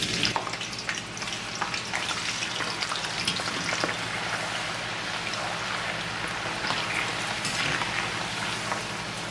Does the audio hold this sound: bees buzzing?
no